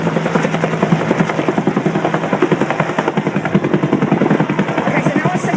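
A Royal New Zealand Air Force Bell UH-1H helicopter hovers and turns nearby, its loud rhythmic rotor thump and turbine whine steady throughout, with a voice talking over it.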